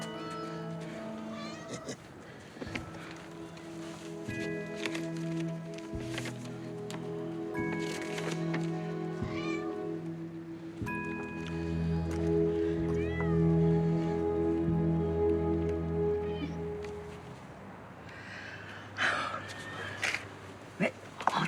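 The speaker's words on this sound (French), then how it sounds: "Ça, c'est le chat." A cat meows repeatedly, its cries drawn out and fairly close, with quiet rustling and low room noise between them and no talking.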